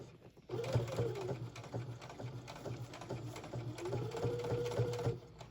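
A sewing machine stitches a kitchen towel with a steady, fairly quiet mechanical whir and rapid needle patter running almost the whole time, its pitch rising slightly as the speed changes.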